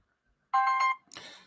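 A mobile phone rings with a bright, tonal electronic burst lasting about half a second, followed by a brief noisy rustle, in an otherwise quiet room.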